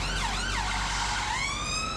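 Ambulance siren on a London street, loud and continuous, its wailing tone sweeping up and down over a low traffic rumble with no talking.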